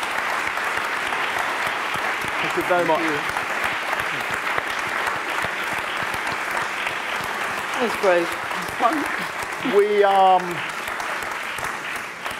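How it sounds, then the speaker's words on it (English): Warm audience applause for award laureates at a celebration event, steady loud clapping throughout while someone speaks briefly over it near the start and end. "I think we should give a very warm applause to our three laureates."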